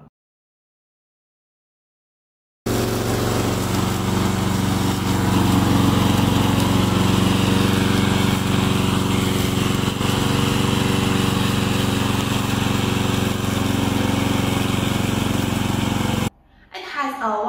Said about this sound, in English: This is our remote controller mower.